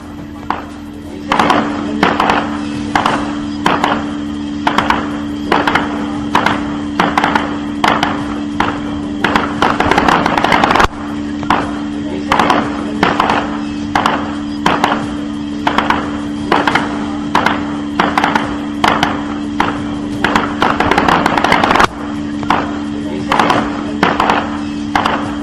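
Gunfire along a border during a ceasefire violation: a long run of sharp, loud reports, sometimes single and sometimes in quick bursts, over a steady mechanical hum, with short pauses between volleys.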